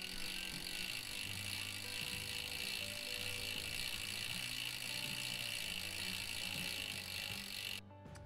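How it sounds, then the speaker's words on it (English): A bike chain is spun backwards through a rag during cleaning and lubing, giving a steady, close ratcheting whir with a fine clicking texture that runs almost unbroken and then stops near the end. "So now that I've spun it backwards, I got that chain going"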